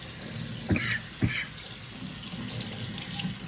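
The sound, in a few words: rinsing cookware under running tap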